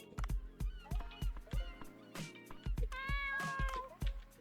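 Momo the cat meows repeatedly in Dave the Diver, a series of short, near meows over a steady game soundtrack with rhythmic beats and a brief melodic chime near the end.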